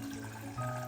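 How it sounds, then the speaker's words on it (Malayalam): Water is poured into a healthy drink mixture being thickened, making a brief, steady, close splashing pour with no voices. "വെള്ളം ഒഴിച്ച് കുറുക്കിയെടുക്കാം."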